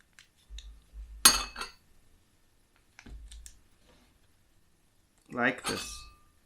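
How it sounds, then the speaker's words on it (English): A metal spoon scraping and clinking against hot baked potato skins and a bowl while scooping out the insides, a few short separate scrapes with quiet gaps, someone speaking in between. "with each potato, you want to carefully scoop the insides out and place in a separate bowl"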